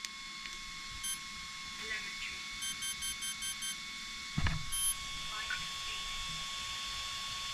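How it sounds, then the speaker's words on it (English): Short electronic beeps chirp from an Align Trex 550X radio-controlled helicopter receiver during binding: a quick series of evenly spaced tones over a steady background hum, fairly faint, with a brief clatter midway. "I heard lots more beeps there"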